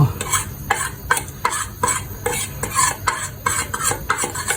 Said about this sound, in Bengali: এই যে একটুখানি গরুর মাংস আমি ভুনা করতেছি।